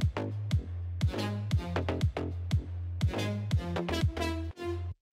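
A Serum synth lead preset with a sharp attack plays a staccato melodic line of bright, buzzy notes over a repeating deep bass tone, ending abruptly.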